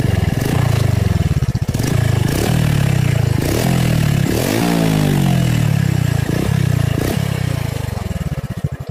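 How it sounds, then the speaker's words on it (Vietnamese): A Honda Wave RSX 110 motorcycle with a homemade stainless steel exhaust revs hard in repeated loud bursts, each throttle blip rising and falling, with a raspy, crackly exhaust note close by and no talking. "Rồi bây giờ mình sẽ cho anh em nghe thử cái tiếng bô anh em ha."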